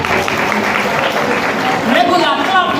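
An audience at a comedy event applauds in a dense, steady wash of clapping, with a voice speaking over it toward the end.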